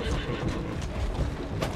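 A horse's whinny rings out loudly over a busy background of hooves and other noise, brief and close, in the video game Assassin's Creed Syndicate: Jack the Ripper.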